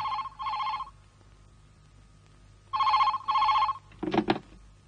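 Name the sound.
telephone ringing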